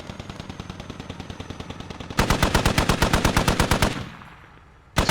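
Rifle gunfire in the military shooter game Squad: a distant steady stream of shots, then a loud close burst of rapid automatic fire for about two seconds, tailing off into echo before another burst starts.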